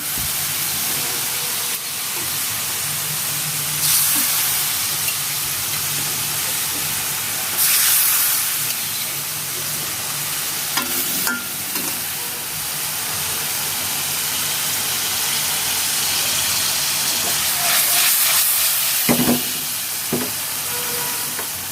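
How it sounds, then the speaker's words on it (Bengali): Pre-fried koi fish sizzle in spice paste in a pan for a fish curry with pumpkin bori and cauliflower, a continuous loud frying hiss with occasional scraping stirs and clinks, no talking. "সবগুলো মাছ একটু সুন্দর করে কষিয়ে নিই।"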